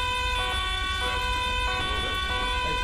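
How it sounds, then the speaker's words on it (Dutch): Police sirens wail loudly and steadily in a Dutch roleplay video game scene, a repeating two-tone cycle that fills the whole clip with no talk over it. "Ik hoor je niet door de sirenes."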